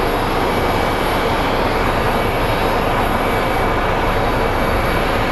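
An airliner jet passes at Sky Harbor International Airport in Phoenix, its engines giving a loud, constant roar and rush that fills the whole stretch without letup or voices.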